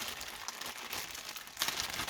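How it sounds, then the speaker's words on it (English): A plastic bag holding chassis parts for a Tamiya TRF 201 XMW radio-control car is opened during an unboxing, giving soft, close crinkling that grows louder and sharper toward the end. "let's look inside this plastic bag"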